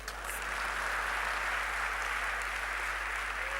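Steady applause from a church congregation during a sermon, a continuous wash of clapping that holds at an even level throughout, moderately distant.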